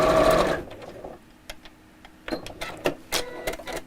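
A sewing machine stitches fabric pieces with right sides together, starting with a short loud whir, then a pause, followed by several quick bursts of mechanical stitching and clicks close by.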